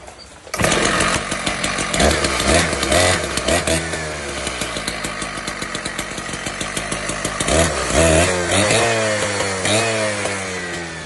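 A small two-stroke engine on a K760 power cutter starts with a sputter, then runs loud and buzzing, revving up and down and settling into a rough idle.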